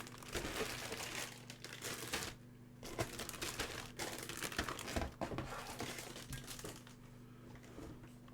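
Plastic packaging is pulled out of a Belkits Hyundai i20 WRC model kit box, giving quiet, close crinkling and rustling in irregular bursts with a few soft taps.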